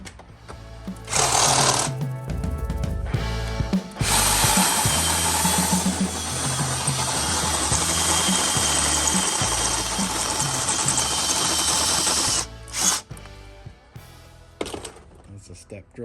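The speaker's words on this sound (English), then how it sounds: "It drills at a taper because it's a step drill bit for drilling sheet metal." A power drill with a step drill bit bites through sheet metal in a loud, rattling grind that runs for several seconds, with short bursts of drilling before and after.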